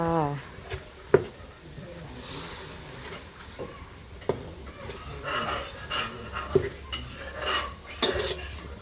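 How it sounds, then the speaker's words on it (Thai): Mackerel fish meat being stir-fried in a pan for a Korat-style Thai noodle curry sauce, with repeated scraping and clinking of a utensil against the pan and a soft sizzle beneath, sharp knocks punctuating the steady stirring. "ใส่เนื้อปลาทูลงไปผัดนะคะ ผัดเนื้อปลาทูค่ะ"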